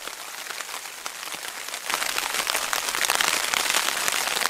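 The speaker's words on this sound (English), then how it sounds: "It's been raining." Steady rain pattering on a taut tent close overhead, a dense hiss of drops that grows heavier partway through.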